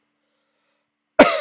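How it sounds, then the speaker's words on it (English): A single sharp cough bursts out close to the mic after more than a second of silence, its raspy tail trailing off at the very end. "I'm really trying to get rid of this cough"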